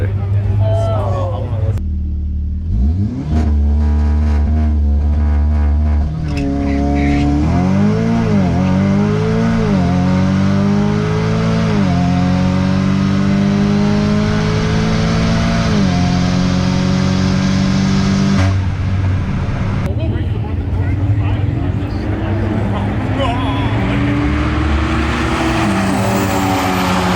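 Built Audi S3 launching on a drag strip, engine revving hard through rising gear pulls with shifts between them, loud and close, crowd chatter underneath.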